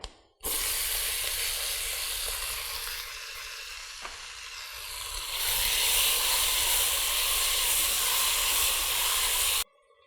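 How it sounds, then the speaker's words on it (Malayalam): Chopped mango sautéing with browned coconut in an uruli makes a loud, continuous close sizzle and hiss. It starts abruptly, grows stronger partway through and cuts off near the end, with no talking. "ഇതിലേക്കിനി നമ്മൾ ചെറുതായി കട്ട് ചെയ്ത് വെച്ചിരിക്കുന്ന മാമ്പഴം ഇട്ട് വഴറ്റിയെടുക്കാം"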